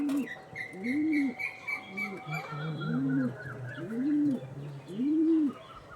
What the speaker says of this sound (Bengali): ওই দেখুন এটাও ডিপ চোখের পায়রা